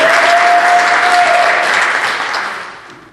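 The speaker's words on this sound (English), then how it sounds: "Big round of applause for Sharon for opening up for us today." Loud, dense applause from a conference audience at a cannabis reform event fills the space with continuous clapping. A faint steady tone hums beneath it before the clapping fades near the end.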